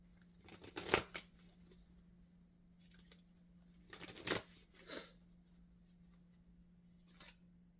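A Moonology oracle card deck being shuffled, a few short papery riffles and swishes separated by pauses, quiet and close, with no talking.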